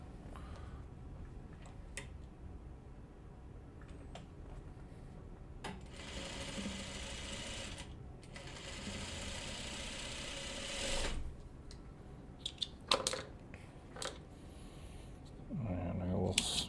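A sewing machine stitches a Farmer's Wife quilt block (Buckwheat, block 13) in steady bursts, pausing between runs, with softer handling clicks and a voice nearby.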